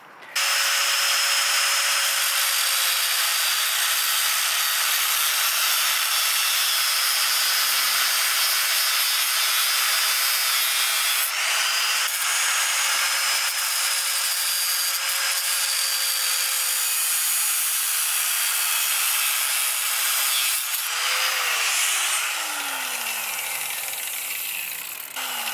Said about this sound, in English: I have to cut this part or trim it.